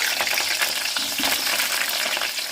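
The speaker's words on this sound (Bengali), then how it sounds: "তেল গরম হয়ে গেলে এর মধ্যে আমি কেটে রাখা আলুগুলো দিয়ে দেবো। আলুগুলো দিয়ে একটু ভালো করে ভেজে নিতে হবে।" Cut potatoes frying in hot oil for a chicken curry, a steady dense sizzle and crackle filling the whole stretch, close and fairly loud with no talk.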